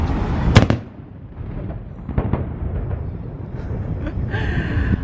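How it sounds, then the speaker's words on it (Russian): Noon cannon shot fired on Vasilyevsky Island in St Petersburg, a single sharp boom heard from a distance, followed by a rumbling echo and general city and crowd noise. "И хочу как раз снять выстрел пушки вам."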